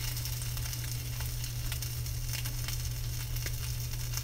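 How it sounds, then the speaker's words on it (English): Salmon skin being scraped in a sizzling pan: steady hissing fry with a low hum underneath and faint scratchy strokes popping through now and then. "I'm scraping all the slimy skin off the bottom of this salmon"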